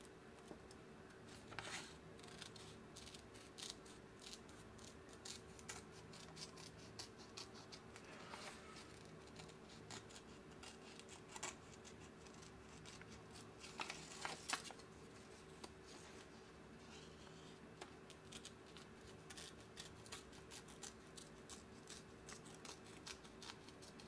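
Scissors snipping through material while building a model propeller, a run of faint, soft irregular clicks and cuts close by in a quiet room, with a few sharper snips in between.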